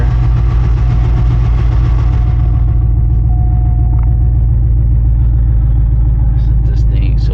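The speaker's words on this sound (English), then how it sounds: "ahead and turn the truck on here." A truck engine, just started, runs at a loud, close, steady rumbling idle, with faint background noises late in the clip.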